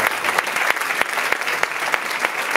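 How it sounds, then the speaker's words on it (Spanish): Audience applause for a Chilean guitarist being introduced at a tribute concert, a dense, fairly loud burst of clapping with a few sharper claps standing out at regular intervals. "un aplauso para él"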